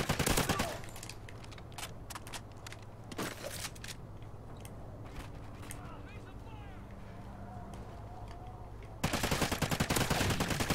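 Gunfire in Call of Duty Ghosts multiplayer: fairly quiet bursts of rapid shots at the start and again near the end, with game sounds and scattered noise in between.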